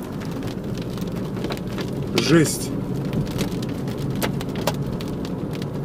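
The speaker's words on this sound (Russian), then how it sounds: "Град какой, елки-палки." Hail and heavy rain pelting a car during a storm, a dense steady drumming on the body and windshield with sharper ticks mixed in, heard from inside while people talk.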